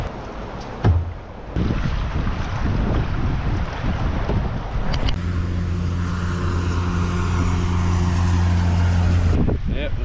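Strong gusting wind buffets the microphone on a river during a canoe trip, a loud, continuous roar and rumble with an engine-like hum joining partway through.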